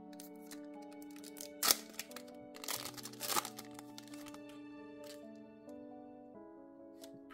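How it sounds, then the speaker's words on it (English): Austin Powers trading card packs being torn open, with crinkly foil crackles and rustling bursts near the start and middle, quiet and close, over a steady tonal background hum. "Let's go ahead and crack into these little Austin Power cards"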